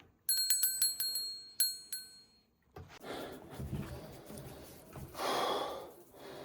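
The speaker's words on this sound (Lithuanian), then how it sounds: "Ir tada dar varpelį uždėjau, kad dar smagiau būtų. Labai gražiai skamba." A small hanging bell rings in a quick series of bright, clear strikes at close range. After the bell, rustling and heavy breathing continue.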